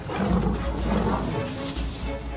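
Lions roar in the wild while attacking buffalo, deep, rough, sustained growling roars heard close and loud for the whole stretch.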